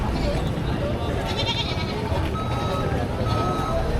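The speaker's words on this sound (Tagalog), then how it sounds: "Kalaking kambing ulit na rin dala ni na Kuya." Goats bleat at a busy livestock market, with short calls rising out of a constant crowd hubbub and people talking close by.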